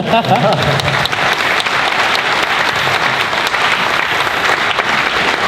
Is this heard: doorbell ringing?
no